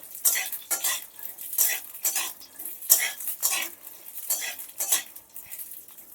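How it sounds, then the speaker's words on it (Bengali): Peanuts are lightly roasted in a pan, with a spoon stirring them in repeated bursts of dry scraping and rattling, roughly one stroke every half second, close and clear with no talking. "বাদামগুলো দিয়ে দেব হালকা বেজে নেব"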